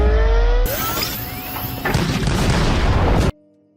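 Three cannons firing in a sustained, loud blast that booms and roars for nearly three seconds before cutting off sharply into a low hum.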